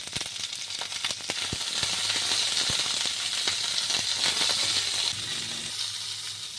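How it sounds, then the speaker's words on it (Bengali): Cauliflower florets fry in white oil with a pinch of salt, producing a close, dense and continuous sizzle and crackle with no voices over it. "আমি ফুলকপিগুলো একটু ভেজে নিচ্ছি।"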